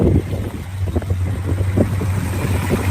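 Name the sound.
classic muscle car engine running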